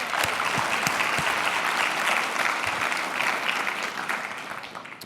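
Audience at a motivational talk claps in steady, dense applause with a few sharper individual claps, tapering slightly toward the end.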